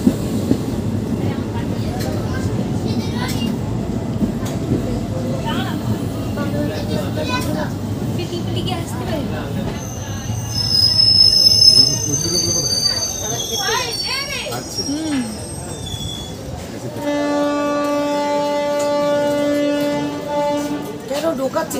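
The Paharia Express passenger train runs along the rails with a steady rumble, then its wheels squeal in long, high, sustained tones near the end, loud and close, with a horn-like tone as well.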